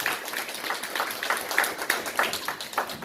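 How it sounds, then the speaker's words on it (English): A small audience at a hackathon demo session claps after a presentation, with scattered, distinct hand claps in an uneven rhythm at moderate distance. "Let's give a round of applause for Pantry."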